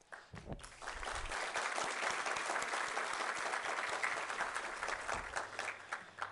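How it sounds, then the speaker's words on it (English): Warm applause from an audience at a Demo Day event swells quickly and holds steady for several seconds before tapering, loud and continuous throughout. "I kindly ask you to applaud them"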